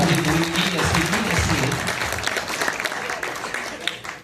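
An audience at a comic poetry performance in a convention hall breaks into sustained applause, dense and crowd-wide, with a voice briefly audible at the start as the clapping gradually thins.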